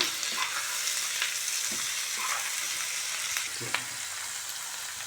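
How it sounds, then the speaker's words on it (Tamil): Tomatoes sauté in a hot pan with a steady, loud sizzle, and a spoon occasionally scrapes and stirs through it. "தக்காளி வதங்கிட்டுருக்கு"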